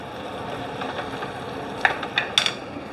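Garlic sizzling as it drops into a hot frying pan with sausages, peppers and onions, a steady soft fry with a few sharp metallic clinks of a utensil near the end.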